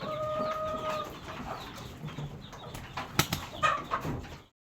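Chickens in a poultry farm coop cluck and chatter continuously, with a few sharper squawks and wing flaps near the end, close and moderately loud with no talking.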